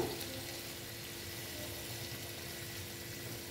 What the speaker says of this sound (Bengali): তারপরে একটু জল অ্যাড করে দিচ্ছি, বেশি দেবো না